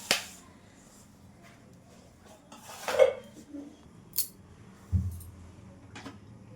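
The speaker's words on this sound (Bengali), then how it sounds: "এবার গ্যাসের উপরে কড়াইটা আমি বসিয়ে দিয়েছি" A metal wok is set down on a gas stove, giving a few sharp clanks and scrapes spread across a quiet kitchen moment.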